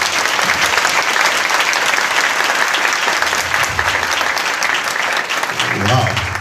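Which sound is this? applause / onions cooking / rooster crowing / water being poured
applause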